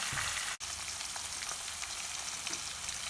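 Upma ingredients with mint leaves and a little turmeric fry in a pan, giving a steady close sizzle with faint stirring scrapes and one brief dropout near the start.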